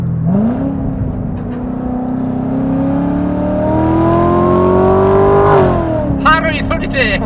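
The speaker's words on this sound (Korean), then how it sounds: "배기 소리는 좋아요" A Corvette Z06 convertible engine revs up steadily, its exhaust note rising in pitch and holding loud, then dropping off before a few sharp throttle blips.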